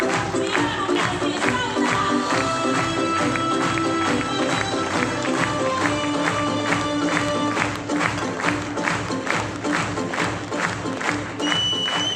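An audience at a stage event claps and cheers steadily for several seconds, a dense loud wash of hands with a few voices rising in the crowd.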